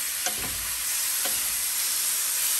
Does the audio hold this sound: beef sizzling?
yes